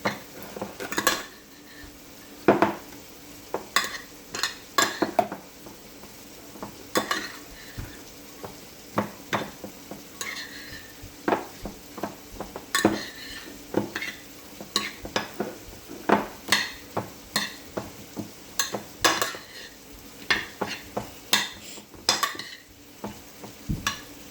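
Seasoned ground beef taco filling being mixed in a pan, with repeated spoon scrapes and clinks against the metal amid a soft background sizzle, steady irregular strokes up close.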